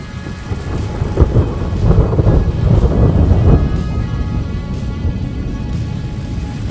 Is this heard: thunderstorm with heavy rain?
yes